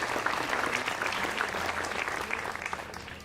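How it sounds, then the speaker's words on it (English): An outdoor civic band concert audience applauds steadily, a dense wash of many hands clapping at moderate distance for a few seconds without pause. "Let's give them all a round of applause again,"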